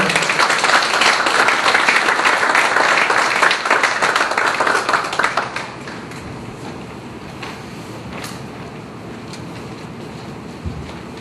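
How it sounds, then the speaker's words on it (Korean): Applause from a church congregation greeting a testimony speaker, a dense wash of many clapping hands that fills the first five seconds and then fades into scattered claps and room quiet. "여러분 뜨거운 박수로 격려해 주실까요?"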